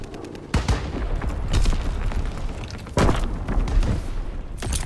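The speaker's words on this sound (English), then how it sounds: "Call for a strafing run." A strafing run in the World War II shooter Call of Duty: WWII brings heavy bursts of gunfire and booming explosions, with two sharp blasts standing out over a dense, loud, continuous rumble of fire.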